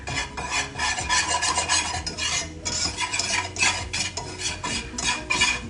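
A whisk works a flour mixture around a pan in quick, rhythmic strokes, each producing a scratchy metallic rasp against the bottom. The sound is close and fairly loud, with no voices.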